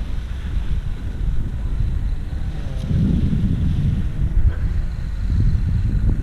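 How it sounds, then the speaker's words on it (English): Wind gusting steadily across an open field while a paramotor wing is kited overhead, a broad rushing roar with microphone buffeting that swells louder in the second half. "Little bit easier wind there."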